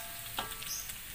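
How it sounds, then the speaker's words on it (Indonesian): Sliced shallots fry in hot oil for an Indonesian spicy squid dish, making a steady close sizzle with faint crackles and small pops and no talking. "Kemudian goreng bawang merah yang udah diiris-iris."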